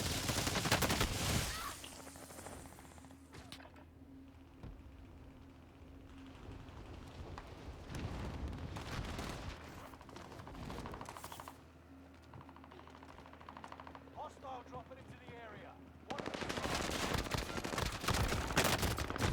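Shooter video game gunfire on a Ryzen 5950X and RTX 4090 PC: several bursts of rapid shots, loud at the start and the end with sparser shots in between, over a quiet game hum.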